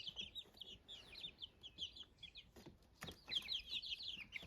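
Young black Barred Rock chickens, just getting white specks on their feathers, chirp and cluck as a busy flock, with high overlapping peeps running steadily throughout at close range, plus a few soft thumps and no talking.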